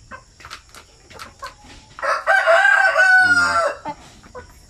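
A native chicken rooster on a farm crows once, a loud, close, drawn-out cock-a-doodle-doo, with soft clucks and scattered farm sounds around it.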